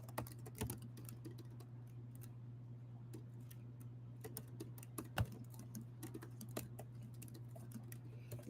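Someone types a message on a computer keyboard in quick, irregular bursts of light clicking keystrokes, a few sharper taps among them, over a low steady hum in a quiet room.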